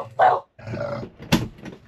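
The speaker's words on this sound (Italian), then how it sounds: "Cenetta fatta con Bernice che ringhia perché ha sentito Cristian che metteva a posto il monopattino" A pet dog at home in a camper van, parked in Andalusia, makes short growling and grumbling bursts with a yip-like edge, close and fairly loud, in brief separate pulses.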